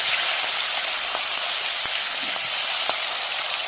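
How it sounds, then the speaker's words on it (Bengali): Magur fish frying in hot oil in a kadai makes a constant loud hiss with scattered faint crackles and pops, heard up close without any voices. "মাছগুলো এবার ভেজে নেব।"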